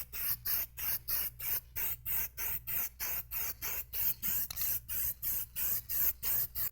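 Plasti Dip gold metalizer is sprayed from an aerosol can in a quick, regular series of short hissing bursts, about three per second, fairly quiet and close by.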